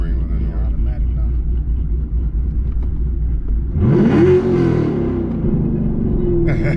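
A full-bolt-on 2018 Camaro engine roars loud and steady on a dyno, sweeping upward in a hard rev midway before holding high, with people talking nearby over the continuous rumble.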